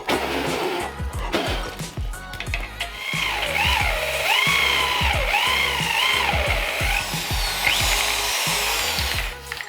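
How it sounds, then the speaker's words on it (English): A wire wheel on a power tool grinds leftover rubber off a steel engine mount bracket from a GT-A Evo 7, a steady loud whirring with pitch sweeps as the wheel loads and frees, continuous and close. "After using the wire wheel to remove any stubborn pieces of rubber that's left over"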